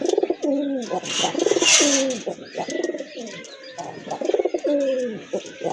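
A male pigeon coos repeatedly up close in rhythmic, throaty phrases, with a brief bit of rustling noise partway through.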